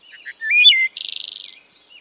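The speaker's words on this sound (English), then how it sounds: "It began with the haunting music of the wood thrush" A wood thrush sings one short, clear, fluting phrase followed by a rapid trilled flourish, close and loud against silence.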